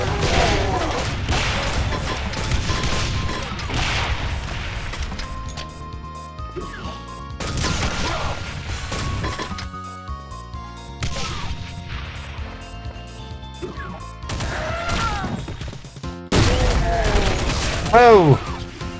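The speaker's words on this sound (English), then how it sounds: "Let's use the new grenade launcher I got." A grenade launcher firing in the video game Doom 2, with heavy booming blasts and crashing impacts in irregular bursts over busy game action, and someone talking through parts of it.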